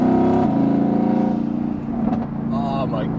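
Renntech-tuned Mercedes-AMG GTS with a blower valve, its 625 bhp engine revving loud and raspy throughout, a sustained close roar with slight pitch changes and a brief dip, while a person talks over it.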